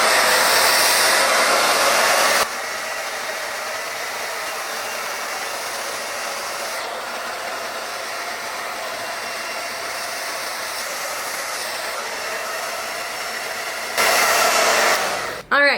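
A hair dryer blows steadily on the hair roots at a lower speed, one long continuous close whir between louder stretches at the start and end, with no talking.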